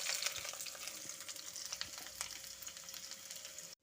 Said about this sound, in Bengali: এখন আমি দিয়ে দিচ্ছি পেঁয়াজ কুচিগুলো